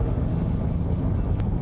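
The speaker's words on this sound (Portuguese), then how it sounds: "Esse é o Range Rover, carro de mais de 2 toneladas, carro de mais de 400 CVs, híbrido" Range Rover Sport hybrid SUV with over 400 hp driving on the road, a steady low rumble of engine and tyres heard from inside or nearby, with no voices.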